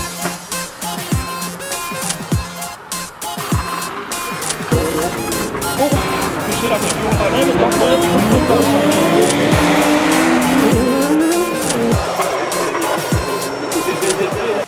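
Race car on the Trophée Andros ice circuit at Val Thorens, engine revving and rising in pitch with tires slipping and skidding across the ice, loud and fairly close, with someone talking over parts of it.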